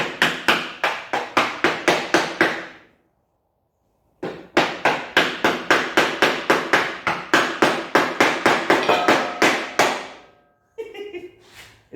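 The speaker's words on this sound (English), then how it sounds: "do I have a hammer up here? No. Oh, yes I do. Yes I do. Oh, I've got a chisel there too." Hammer tapping a chisel on a temporary light mount of a 1910 SCAT fire truck: rapid, even metallic taps in two long runs split by a short pause, close and sharp, ending in some softer scraping.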